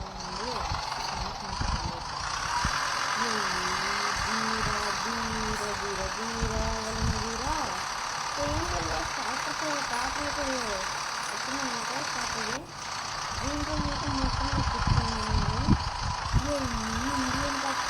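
A tractor engine in the Indian Bikes Driving 3D video game idles and revs with a low, wavering mechanical drone, pitch rising and falling across the clip.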